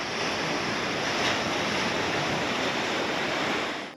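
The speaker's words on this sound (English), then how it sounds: "you can hear the crashing sounds of the waves as you wake up each morning" Ocean surf rolls and crashes steadily on the coastline of Nova Scotia's South Shore, a continuous broadband wash that stays loud and close throughout with no voices.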